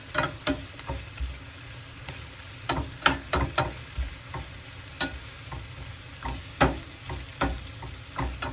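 Fish sautéing in a pan for Jamaican brown stew fish, a steady close sizzle broken by repeated sharp scraping and stirring clicks of a utensil against the pan, with no voices.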